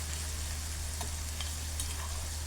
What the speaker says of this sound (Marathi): एक दोन मिनटं आलं लसूण कांद्यासोबत छान परतून घ्यायचं